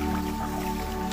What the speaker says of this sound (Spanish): Vamos a llenar el vaso.